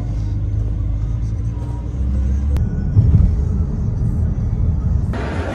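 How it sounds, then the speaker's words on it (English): A car at night during the Rock in Rio festival in Lisbon, with a low steady engine rumble and road noise close by, rising slightly midway, along with a sharp click and a brief brighter noise near the end. "I'm about to get in this car right now"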